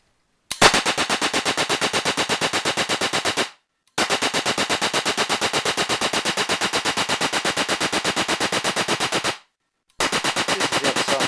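Replica .30 caliber Browning machine gun converted to run on an LPG gas system, firing three long, loud, rapid-fire bursts of evenly spaced shots, each cut off by a short silence.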